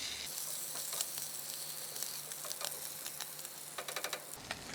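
Duck sausage omelette toppings sizzle in a pan with a continuous close hiss, and a run of sharp pops and crackles toward the end.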